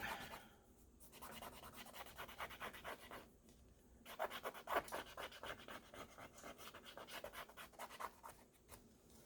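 Eraser rubbing back and forth over marks on an art journal page, a close, quiet series of rapid scratchy strokes in short bursts separated by brief pauses.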